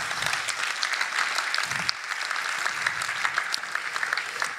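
An audience at a talk in Munich applauds continuously, a dense, steady wash of many hands clapping at even loudness throughout, with no voices over it.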